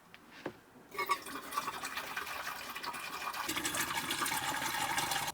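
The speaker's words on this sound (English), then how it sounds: "we're just gonna use simple vinegar to splash all the tank" Vinegar splashes into the grey water tank of a camper van: after a quiet moment with a few small knocks, a continuous close gurgling rush of liquid starts and grows fuller and louder, with no voices.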